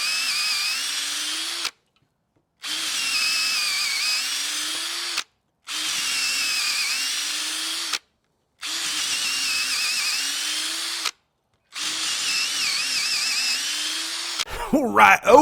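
A Ryobi cordless drill whines loudly in five bursts of a few seconds each, separated by short silences, with a bit of handling noise at the end.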